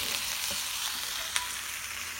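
Food frying in a pan with vegetables and oil: a continuous bright sizzle, fairly close, with a couple of faint clicks from a utensil.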